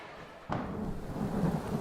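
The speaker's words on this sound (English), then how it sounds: "One night, it was raining heavily, which woke me up." Steady, dense rain roars in after a sudden onset, a broadband hiss with low rumble that continues without pause.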